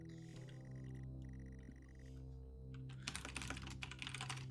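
Computer keyboard typing in the video game Stories Untold, a quick burst of close clicking keys over a steady low electronic hum and tones.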